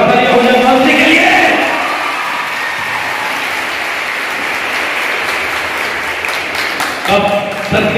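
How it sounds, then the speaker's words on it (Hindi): Loud applause from a school audience at an International Women's Day program, a dense steady wash of clapping running the full length with crowd noise and a voice heard over it. "एक बार जोरदार तालियां हो जाए"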